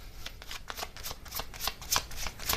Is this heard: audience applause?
no